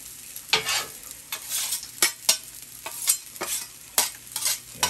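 Cold, slightly starchy rice fries on a Steelmade flat top grill heated to 450 to 500 degrees. A steady sizzle is broken by repeated scraping stirs of a spatula, close up, with no talking.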